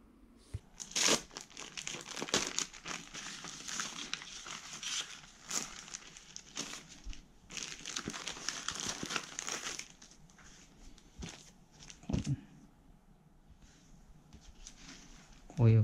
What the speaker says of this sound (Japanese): こういうカーボン紙で。